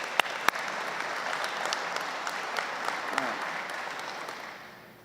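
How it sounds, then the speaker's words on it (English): Audience applause at a Veterans Appreciation Day event, steady and dense clapping from a sizable crowd that holds for several seconds and then fades out, with a couple of sharper claps near the start. "give the city a round of applause real quick"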